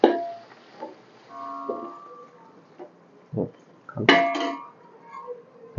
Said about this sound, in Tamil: ஆட் பண்ணி ஃபுல்லாக நம்ம கிண்டி விடுறோம்